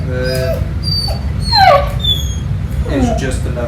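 A poodle puppy whimpers and whines in rising, wailing cries after a bath during grooming indoors, several drawn-out whimpers over steady background noise, with no talk.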